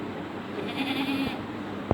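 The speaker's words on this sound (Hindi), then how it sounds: "ये है हमारा बकरा" A male goat kept at home ahead of Eid gives a single drawn-out, wavering bleat at moderate distance, with faint background noise and a brief knock at the end.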